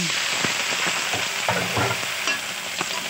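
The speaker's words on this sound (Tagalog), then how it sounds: "itambog na natin ang ating hilabos na hipon" Shrimp hits a hot pan with sautéed garlic and onion, a steady bright sizzle broken by scraping stirs and small clicks of a utensil, close and continuous.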